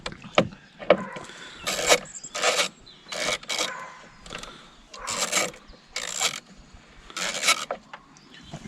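A hand ratchet undoes the battery bolt on a Vauxhall Vectra C, giving bursts of quick close clicking ratchet strokes in an irregular rhythm with short pauses between them.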